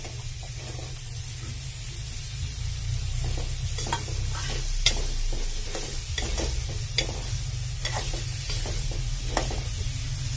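Tomatoes frying in a pan for a pumpkin curry, a steady close sizzle with scattered stirring clinks and scrapes over about ten seconds, no talk.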